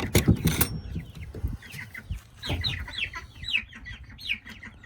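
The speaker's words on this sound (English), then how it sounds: "Now chicken's in there." Chickens inside a chicken tractor cluck and squawk close by, starting with a loud burst of flapping and calls, then settling into a series of short, repeated clucks and chirpy calls.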